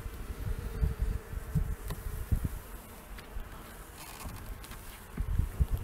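Honeybees buzz at a hive frame in April, a soft, close, continuous drone with small swells and dips in loudness.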